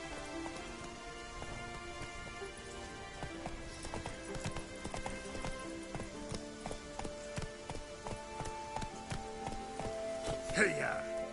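Roach the horse galloping in The Witcher 3, with steady rhythmic hoofbeats under rain and game ambience, continuous and moderately close throughout, with a voice briefly calling out near the end.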